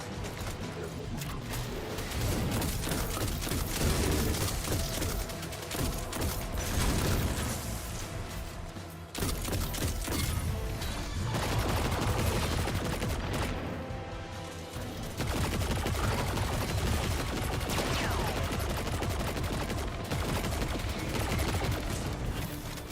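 Machine gun fire in a shooter video game rattles in dense, loud bursts across the scene with brief pauses and occasional explosions, mixed with game effects and some talk.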